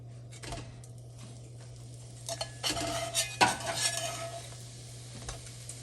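Biscuits are turned one by one in a pan, giving soft scraping and clinking of a utensil against the pan over a low steady hum, with a few louder scrapes bunched in the middle.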